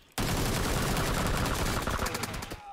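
Sustained automatic gunfire in the battle-royale video game PUBG Lite, a loud, dense burst of rapid shots running for over two seconds, with distinct cracks toward the end before it cuts off.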